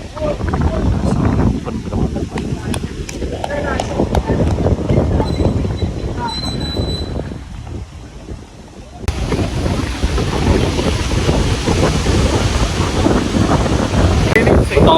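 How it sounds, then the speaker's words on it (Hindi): Strong outdoor wind at a cricket ground, roaring continuously into the microphone with heavy buffeting that surges and dips, loud and close throughout the scene. "अब आंधी आ रही है।"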